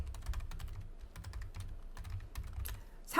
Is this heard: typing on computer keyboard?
yes